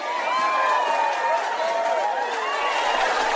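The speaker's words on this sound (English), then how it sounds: "Thunderous applause as always." Steady, dense crowd applause mixed with cheering and whistles on a comedy talk show, loud and unbroken for the whole stretch with no voices speaking over it.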